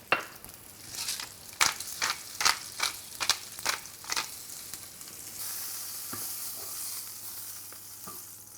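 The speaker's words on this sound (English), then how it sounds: "You should be able to hear that nice sizzle" Green beans fry in hot olive oil in a pan. A run of sharp crackles and pops gives way to a steady, close sizzling hiss, with no voices.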